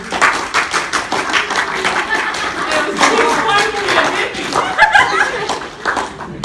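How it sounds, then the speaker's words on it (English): A convention panel audience at Matsuricon claps in a lively burst of scattered, uneven hand claps, with chuckles and laughter mixed in and voices chattering underneath. "Round of applause."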